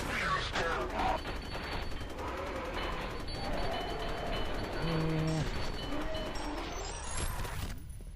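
Gunfire in the shooter game F.E.A.R., with rapid bursts of shots and clattering action effects at low level, mixed with game sounds and occasional talk.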